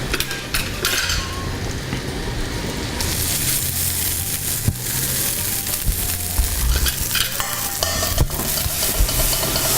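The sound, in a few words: stirring rice into a sizzling vegetarian dish in a pan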